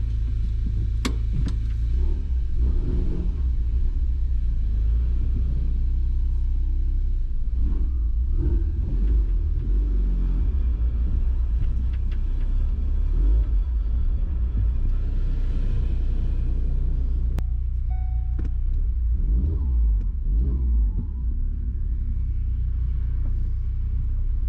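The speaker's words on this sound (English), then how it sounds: "Listen to that intercooler bubble." A Ford Focus RS project car, wrecked and just restarted after months of sitting, idles with a deep continuous engine rumble and intercooler bubble, close and steady throughout.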